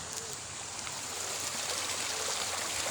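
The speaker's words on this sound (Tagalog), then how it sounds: "tubig ilog, hindi tubig dagat." Cold river water flowing down from a mountain in the Philippines makes a continuous, close rushing burble for a few seconds, with no talking.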